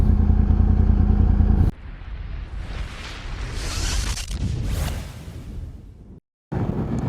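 Motorcycle being ridden, a loud close engine drone that cuts to a rushing, whooshing blend of wind and road noise with clattering bursts, followed by a brief dropout before the engine noise returns.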